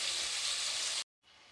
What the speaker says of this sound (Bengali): যে পেঁয়াজটা ভালো করে ভাজা হয়ে গেছে, লালচে লালচে ভাব এসেছে